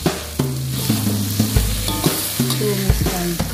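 Water spinach (kangkung) fries loudly in a pan while a utensil stirs it, with repeated scraping knocks every half second or so over a constant close sizzle and no voices.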